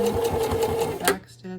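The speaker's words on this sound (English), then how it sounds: "And I'm just following along that line, kind of a little bit to the right of it." A sewing machine stitches steadily through layers of repurposed denim for a mug mat, a close, fast mechanical whir that stops abruptly near the end while someone talks over it.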